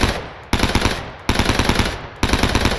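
Rapid automatic gunfire from a Thompson submachine gun in Flan's Mod, three close, loud bursts of fast rattling shots separated by short pauses.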